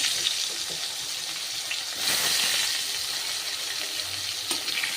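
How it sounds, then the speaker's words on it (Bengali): Oil sizzles and crackles steadily in a pan as eggplant slices fry, a dense hissing fry with occasional louder pops, close and continuous. "ভালো মতো করে ভেজে নেব গলে যেন না যায় সেইভাবে বেগুনগুলোকে ভাজতে হবে"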